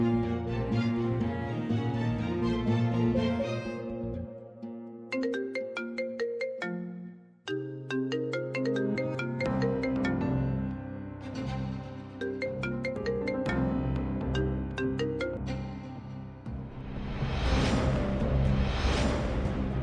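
During an outgoing call in a Marathi TV drama scene, a phone plays a melodic ringtone that repeats steadily and loudly for about twenty seconds, with a brief gap midway and no speech.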